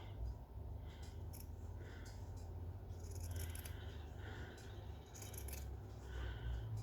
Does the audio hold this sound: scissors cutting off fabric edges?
yes